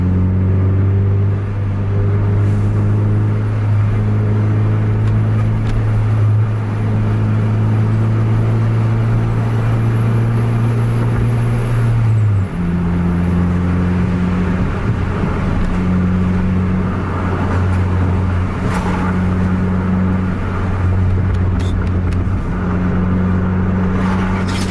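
A Kurniawan coach bus on the road gives a steady, loud engine rumble with a deep drone, then a clear gear change at about halfway as the engine note drops and builds again, with no talking.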